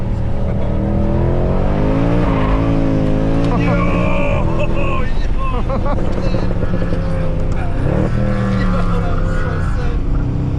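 A 550 hp Mercedes C63 AMG engine roars and revs in rising and falling surges as the car slides, with voices talking over it.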